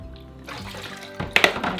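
Apple cider vinegar is poured into a pot for pickling pineapple, a brief liquid splash that builds into a few louder sloshing bursts at the end.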